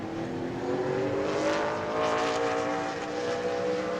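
A Super Late Model race car roars down the straightaway at New Smyrna during qualifying, its engine holding a steady, loud, droning pitch that swells slightly as it passes, heard continuously without talk.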